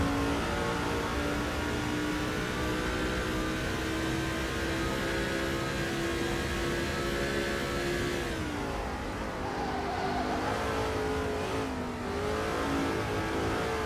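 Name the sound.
Camaro race car engine in the video game NASCAR 2005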